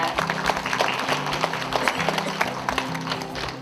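An audience at the 2019 Korea Consumer Awards ceremony claps for the award winners. The clapping is dense and steady throughout, with a low tonal hum running underneath.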